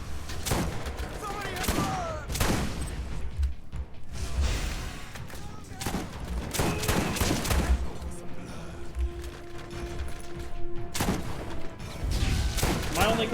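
Repeated loud gunfire bursts from a shotgun in the Borderlands video game, several blasts spaced a second or two apart over game music and effects, with a person talking intermittently.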